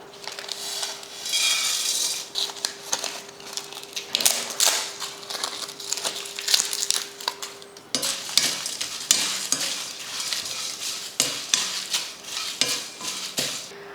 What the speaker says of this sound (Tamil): அடுத்ததாக நம்ம எடுத்து வச்சுருக்க ஸ்பைசஸ் எல்லாம் போட்டு வறுத்துக்கலாம்